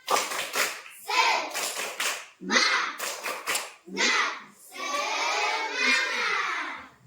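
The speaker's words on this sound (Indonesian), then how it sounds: "Kita mulai tepuk semangat." A school class performs a rhythmic spirit clap, tepuk semangat, in a classroom: bursts of patterned clapping mixed with children chanting together, ending in a long group shout, loud and close.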